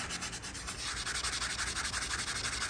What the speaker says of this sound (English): You can see you can get all that surface rust off and leave a clean surface.